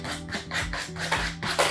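A sanding block rubs across the edges of a wooden hanging sign in repeated rhythmic strokes, each a close, raspy scrape with brief pauses between passes.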